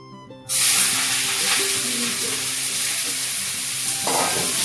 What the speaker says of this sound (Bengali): একটু তেলটা গরম হয়ে গেছে, সব একসঙ্গে ছাড়িয়ে দিব।